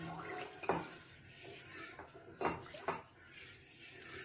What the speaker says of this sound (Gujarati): ધીમે ધીમે નાખતા જઈએ અને સતત હલાવવાનું છે.